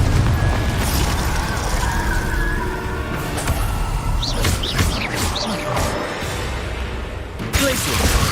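Booming spell blasts and crashing impacts in the video game Hogwarts Legacy, including the fiery Confringo explosion, loud and dense over a constant rumbling game soundtrack with scattered bursts and effects.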